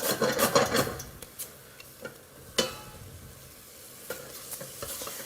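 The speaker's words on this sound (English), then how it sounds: "Now, I like this to fry out just for a couple of minutes, stirring continuously" Vegetables fry in a pan while a spatula stirs them steadily, giving a soft rasping sizzle with scraping strokes that are busiest at the start and then come as sparse, isolated scrapes and taps.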